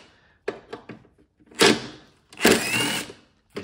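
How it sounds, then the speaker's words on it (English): An impact wrench fitted with an extension and a 10 mm socket unbolts headlight bolts on a car being parted out: a few light clicks and knocks, then two loud, close, rattling bursts of about half a second each. "I just have my impact with an extension and my 10 millimeter socket"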